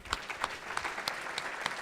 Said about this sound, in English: Again, let's give them another round of applause.